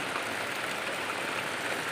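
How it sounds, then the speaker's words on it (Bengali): Heavy rain pours steadily during cloudy, stormy weather, a dense continuous hiss filling the space with no pauses and no voices. "প্রচণ্ড বৃষ্টি হচ্ছে।"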